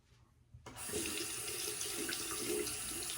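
A Parker Solo Edge single-edge safety razor is rinsed under a running tap, a steady broadband rush of water in a sink starting abruptly after a brief quiet moment and continuing close and moderately loud.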